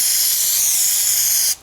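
A steady, close aerosol spray of carburetor cleaner hisses continuously for over a second onto a surging snowblower's carburetor, then cuts off abruptly.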